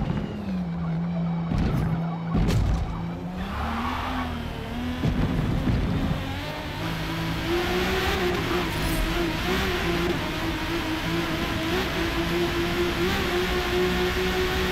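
Widebody Toyota Supra with a six-cylinder engine in a racing video game, its engine droning steadily and rising in pitch through the gears, with brief tire squeals near the start.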